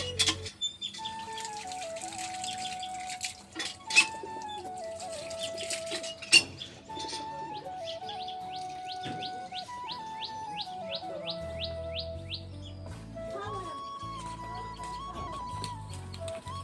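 Pet pigeons feeding, with soft cooing and chirps rising over a busy background of bird calls, steady and close throughout.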